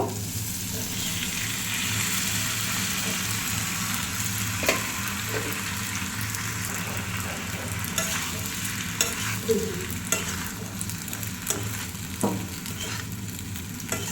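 Pasta frying in a pan for spicy chicken pasta, a dense continuous sizzle with occasional scrapes and knocks of a spoon stirring, steady and fairly loud throughout.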